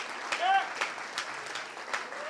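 Audience applause at a live event at the Bell House honoring The Intercept staff, a soft steady patter of clapping from a crowd at moderate distance, with brief voices over it.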